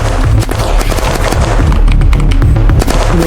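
Rapid bursts of gunfire from the video game Unturned pound out loud and close, dense repeated shots overlapping with deep thuds throughout.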